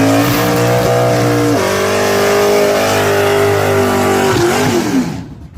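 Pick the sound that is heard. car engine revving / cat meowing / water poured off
car engine revving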